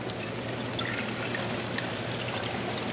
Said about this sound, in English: You pour a little bit of water on the top and it'll work a lot faster.